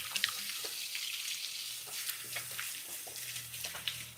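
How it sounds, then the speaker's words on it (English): Tap water runs into a sink while hands are washed, a soft steady stream with small splashes and clinks, fairly quiet and close, with no speech. "I'm going to wash my hands."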